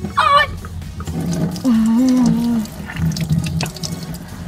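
A tap runs at a sink while toothpaste is rinsed off a face, a continuous wash of water under pained vocal cries and moans.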